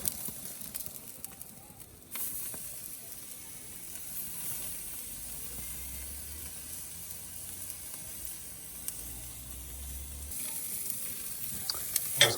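Wagyu steak sizzling in a hot pan as it is flipped, a steady loud frying hiss that swells after a brief quieter start and continues without pause.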